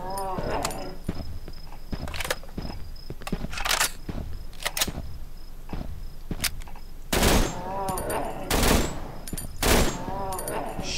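Gunfire from a gun in the horror game Cry of Fear, with a series of sharp bursts and shots scattered through the clip, some loud and close, set over a busy game background.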